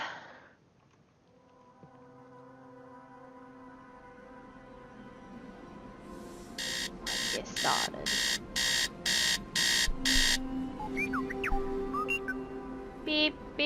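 Alarm clock in the Tales of the Neon Sea game, a rapid series of about eight loud, evenly spaced electronic beeps over a humming ambient backdrop, with brief speech before it.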